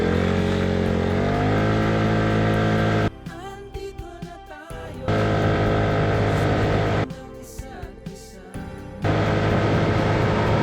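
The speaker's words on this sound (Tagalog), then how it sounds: "The QJMotor Fortress 160 ay may 160cc single overhead cam na Makina." QJMotor Fortress 160, a 160cc single overhead cam, four-valve, liquid-cooled motorcycle engine, running loud and close: a sustained drone that rises in pitch, breaks into two choppy, fluttering stretches with gaps, then steadies again.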